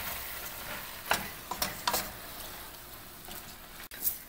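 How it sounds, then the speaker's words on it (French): Goulash with tomato paste and spices being stirred in a pot, a soft sizzling bed broken by a few distinct scraping strokes and light knocks at irregular intervals, close by. "Puis on brasse environ pendant 5 minutes."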